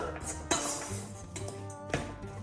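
A utensil stirs a leek mixture in a dish while preparing brik au thon, with a few sharp metallic clinks and scrapes against the bowl over quiet background.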